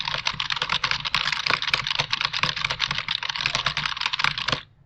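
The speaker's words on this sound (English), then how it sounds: "Now I'm going to go ahead and type." Steady typing on a computer keyboard, close and fairly loud, with rapid continuous key clicks for several seconds before stopping abruptly at the end; no voices.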